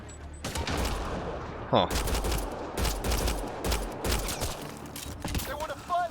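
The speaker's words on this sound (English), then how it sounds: "They shot him." Bursts of gunfire fill a firefight in Mass Effect: Andromeda, rapid overlapping shots and fusillades crackling almost continuously at close range, with a brief voice speaking over the combat.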